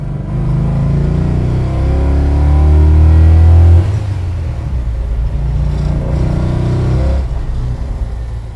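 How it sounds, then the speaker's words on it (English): A loud, deep V8 engine in a 1968 Dodge Charger with six-pack carburetors revs hard, climbing to a roaring peak before dropping back to a rumbling idle, then surging again. "Those six-pack carbs opening up and devouring all that air"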